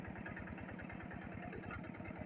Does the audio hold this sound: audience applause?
no